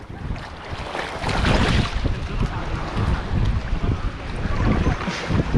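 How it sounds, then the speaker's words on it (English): Wind blows at a Florida beach, buffeting the microphone in heavy low rumbles and gusts over a broad wash of surf, loud and constant for several seconds. "Oh, there is wind."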